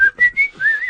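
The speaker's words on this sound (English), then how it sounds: "I'm concentrating on whistling." A person whistles a short melodic tune alone, three quick phrases followed by a longer sliding note, close and clear with no talking.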